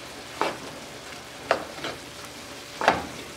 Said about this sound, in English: So I'll saute this all together.